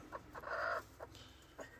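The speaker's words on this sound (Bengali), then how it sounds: "আমাদের বুলেটের যে ডিমগুলি এই মুরগিটার নিচে দিয়ে রেখেছি, অল্প কয়েকটা ডিম।" A small brooding hen clucks in short bursts, with one longer, louder cluck in the middle and a few brief ones spaced around it, close by with no talking.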